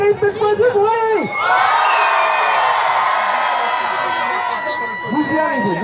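A big holiday crowd erupts into loud cheering, whoops and shouts on cue, a sustained roar following a brief announcer's voice and trailing off near the end.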